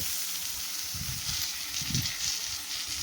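Grated coconut and tamarind sautéing in a pan for sundakkai curry, a steady close hiss of frying with a few soft stirring shuffles underneath.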